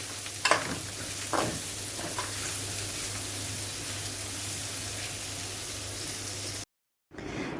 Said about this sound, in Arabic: وهديلهم تقليبه كده بسيطه قوي، مش هخليهم يعني يتبالوا جامد معايا